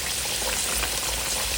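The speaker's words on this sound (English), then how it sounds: "See how these are frying?" Sweet potatoes, sliced yams, fry in a pan with a dense, steady sizzle and crackle that holds at an even level throughout, close up and unbroken by any voices.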